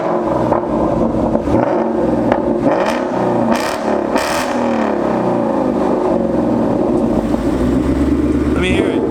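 A 2018 Mustang GT with a Corsa Sport catback exhaust revs loudly and steadily close by, its deep engine note rising and falling through several throttle blips, with people talking over it.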